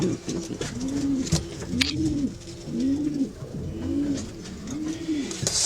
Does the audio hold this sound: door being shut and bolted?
no